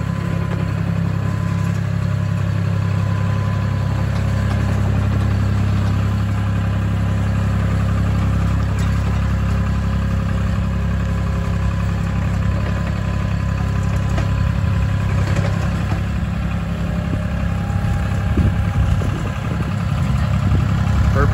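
Vermeer CTX100 compact track loader engine running steadily at a landscape rock installation site, a continuous low idle drone with faint mechanical vibration throughout.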